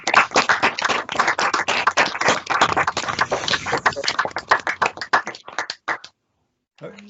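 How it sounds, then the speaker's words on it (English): A small audience at an annual general meeting claps for Tom: a quick burst of individual hand claps that thins out and stops, followed by a brief voice. "Let's have a big clap for Tom"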